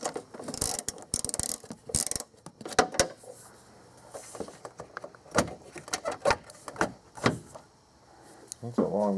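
Socket wrench ratcheting an 8mm bolt loose on a 1997-2003 engine during water pump, degas bottle and lower hose removal, heard as several bursts of rapid clicking, close and moderately loud, with short pauses and handling noises between them.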